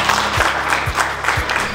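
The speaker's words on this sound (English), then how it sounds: "I think we need to really give a big applause for that." Audience applause at a cricket challenge media launch, a steady wash of clapping that runs the whole moment at moderate loudness, with faint low tones repeating beneath it.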